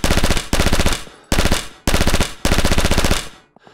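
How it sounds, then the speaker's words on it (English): An SMG in the video game Rising Storm Vietnam empties a full magazine at targets in four loud, rapid automatic bursts with brief gaps between them, then goes silent apart from a small mechanical click. "Let's dump a mag here into these targets."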